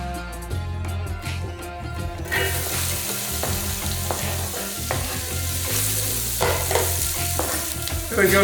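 Diced onions hit a hot pan and stir fry, a loud steady sizzle building suddenly after a few soft clinks, with scraping stirs through it and no voices.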